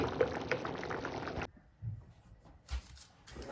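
A steady bubbling, hissing simmer of liquid in a pot that cuts off abruptly, followed by a few faint thumps and soft clatter.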